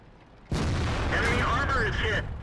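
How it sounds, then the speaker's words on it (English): A JagdTiger tank destroyer's main gun fires in a video game with a single sudden heavy boom, followed by a loud, rumbling tail that sustains under a talking voice before cutting off. "The JagdTiger's gun is strong"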